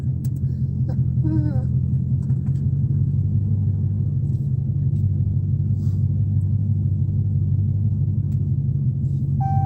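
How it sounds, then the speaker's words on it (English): A modified, non-stock McLaren sits idling with a deep, steady low rumble that holds for nearly ten seconds, close and loud, with brief faint chirps and clicks near the start. "This McLaren, y'all, is fast. It is not stock."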